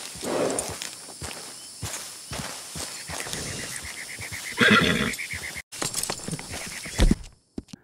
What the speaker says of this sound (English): If you are having difficulty taming horses in this game, practice on easy horses like this one, or a Morgan or a Tennessee Walker.